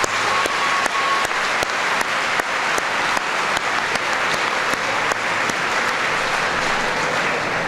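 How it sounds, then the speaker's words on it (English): High school students at Maury High School applauding themselves after a speech by U.S. Vice President Joe Biden, a steady, full crowd clapping that continues evenly with crisp individual claps popping out near the front. "Give yourselves a round of applause."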